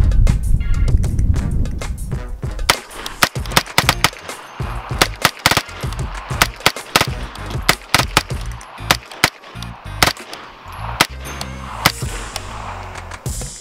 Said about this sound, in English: I'm gonna try that bump fire thing, see if it works out.